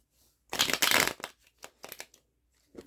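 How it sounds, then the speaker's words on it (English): A tarot card deck is shuffled in several quick riffling bursts, one long loud flurry followed by shorter, softer rustles and a final brief snap, close and alone with no talking. "This deck has not liked being shuffled that way all day today."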